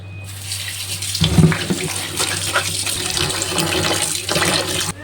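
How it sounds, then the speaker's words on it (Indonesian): Cassava leaves being washed under running tap water in a kitchen sink, a steady splashing gush that starts after a moment, swells and churns for several seconds, then cuts off near the end. "Kita cuci sayur daun singkongnya berkali-kali biar lebih bersih."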